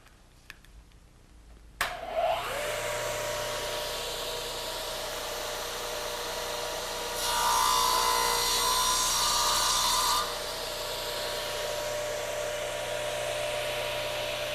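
A radial arm saw cuts wood stock, starting with a sharp motor clunk and a steady high whine, then a louder, brighter rasping as the blade bites through the piece for about three seconds before settling back to the running whine.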